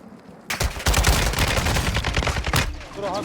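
Rapid bursts of automatic gunfire from the video game Call of Duty Warzone 2.0, loud and dense, crackling in quick succession for nearly three seconds before trailing off.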